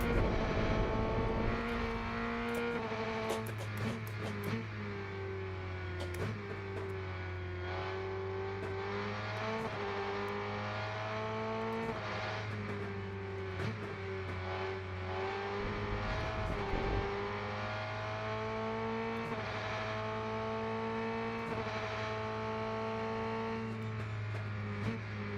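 A Praga R1 race car engine in the Rennsport video game drones steadily throughout, its pitch rising and falling with the gear changes as the car laps. The engine plays alone and no one talks.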